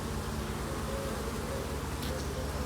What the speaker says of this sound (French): Toujours des abeilles super cool.